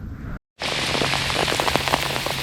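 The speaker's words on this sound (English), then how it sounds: "we got a heavy rain now. It's just a pouring down out here now." Heavy rain pours down outdoors on a cold February day at a crappie fishing spot, a dense, steady close hiss of drops after a brief cutout, with no talk.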